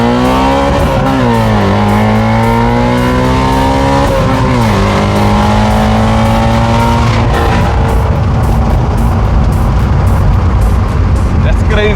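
Inside an Audi RS4 fitted with a new exhaust, the engine roars loudly as it accelerates hard, its pitch climbing through repeated pulls with sharp drops at the gear changes, then a rougher, louder exhaust note near the end.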